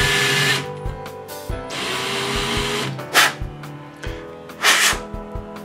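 A handheld rotary tool grinds at a phone charger cable during a repair, a steady close whine with a few brief louder bursts of contact, no talking.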